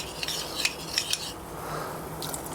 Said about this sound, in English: I'm going to strain it so I don't get no lumps